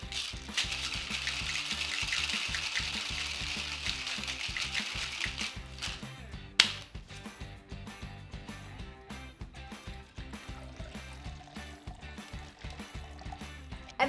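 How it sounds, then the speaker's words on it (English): Vodka and Campari rattle in a cocktail shaker, a rapid loose sloshing and clinking that runs for several seconds, then a sharp knock followed by lighter scattered taps and movement. "Now we're gonna shake the vodka and Campari."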